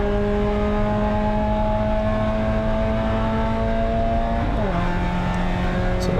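Spec Miata race car engine held at full throttle on track, a loud, steady high-pitched drone that climbs and then drops sharply with a gear change near the end, running continuously with no talk.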